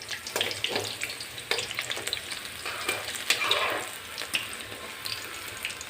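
Chili bhajiya fritters sizzle in hot oil while a utensil stirs and flips them, giving a constant crackling fry punctuated by repeated scraping clinks and splashes.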